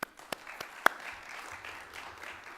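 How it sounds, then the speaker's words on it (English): At a veterans business conference, a few sharp, scattered claps turn into faint, distant applause from the audience. "let's give them all a round of applause."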